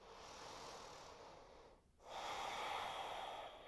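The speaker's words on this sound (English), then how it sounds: "Breathing deeply." A woman breathing deeply and steadily during a pregnancy stabilising exercise, long close airy inhales and exhales with a brief pause between breaths, heard alone with no talking.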